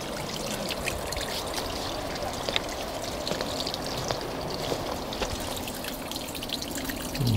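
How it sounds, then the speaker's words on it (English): A small, scummy trickle of water flowing along a shallow stream channel at Barrs Court, a steady soft burble and splash close by, continuous and alone without speech. "A trickle of water through the middle of it."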